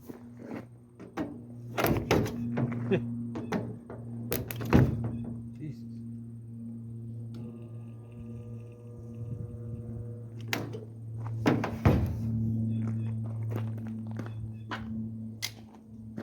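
Metal body dents on a 1956 Chevy being pulled with a stinger dent puller, heard as sharp thunks and clanks scattered over a steady low electrical hum, in a workshop with occasional movement noises.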